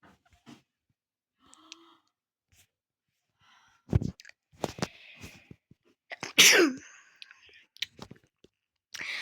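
A single sharp sneeze bursts out close to the microphone during a Minecraft session, set among quiet mouth noises, small clicks and soft murmured speech.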